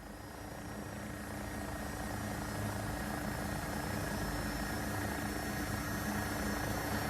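An AgustaWestland AW109SP helicopter in a flight simulator, a continuous steady rotor and turbine drone with a faint whine, holding the same level throughout with no talking.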